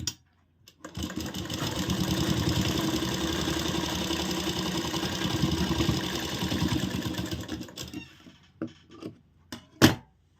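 A sewing machine stitching the main seam of a gathered blouse, running in a steady close mechanical whir for about seven seconds, then a few short clicks and bumps as it stops.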